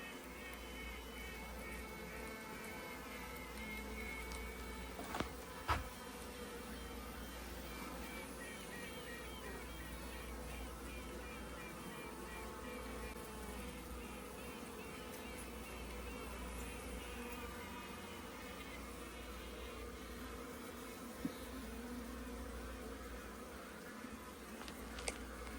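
Virgin honey bee queens pipe inside a quiet barn, heard as faint repeated tonal toots over a steady, close buzz of bees that continues throughout without any talking.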